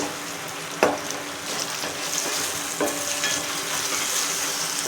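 Tomatoes with rock salt sauté in a pan for a raw jackfruit curry, giving a steady, moderate sizzle with a few distinct scraping stirs of a spatula spaced a couple of seconds apart, close and without talk.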